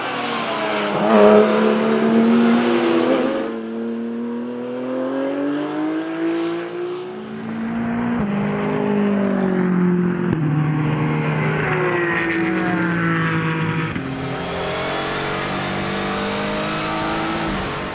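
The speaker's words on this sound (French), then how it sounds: "devance Karl Van de Vostin et Georges Canas dans cette seconde course du jour" Race cars in a ROSCAR race at the Nogaro circuit, loud engines revving and climbing through gears as several cars pass close by, with some tire squeal and no speech.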